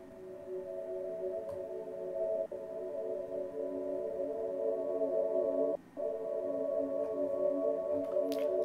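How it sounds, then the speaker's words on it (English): A sustained Omnisphere synth pad, the Kaimini Crying Times patch, played in E Dorian for an ambient beat, with long held chords that drift and shift only slightly over several seconds, steady and mid-level, alone without voices. "Nothing too crazy. It's just a pad and omnisphere."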